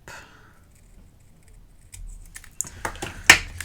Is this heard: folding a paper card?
yes